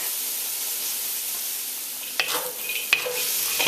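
Grated ginger and garlic sizzle steadily in a hot pan, with two or three sharp stirring clacks and scrapes near the end, close and without talk.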